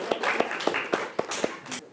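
A few people clap for a school student group after its discussion presentation, giving sparse, evenly spaced claps that grow slightly denser toward the end, moderately near in a classroom.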